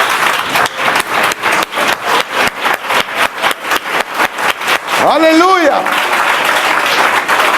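A church congregation claps in rhythm, loud and steady, with a shout from the crowd partway through and a voice speaking over the clapping.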